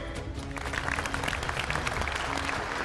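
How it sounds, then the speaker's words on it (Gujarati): Audience clapping at a village wrestling competition, steady crowd applause that swells slightly after the first half second and continues throughout. "તાળીઓ પાડો દામોદરભાઈ માટે."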